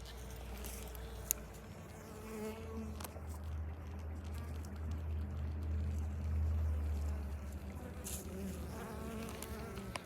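Honeybees swarm and buzz around the entrance of a backyard beginner hive, a steady dense hum close by with a low droning undertone that rises slightly in the middle, no voices.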